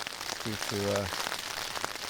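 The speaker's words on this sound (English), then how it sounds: "I'm just lying here now and listening to the rain." Rain patters steadily on the fabric of a Helm 2 tent during a wild camp, a dense, even hiss close overhead, with a brief spoken word partway through.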